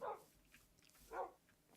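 Dogs barking twice in short, fairly faint woofs roughly a second apart, heard alone without talk.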